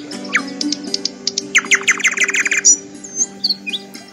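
Birds chirp and tweet in a forest as a story sound effect, a lively run of quick high calls and trills, close and clear over a low steady hum, with no one talking.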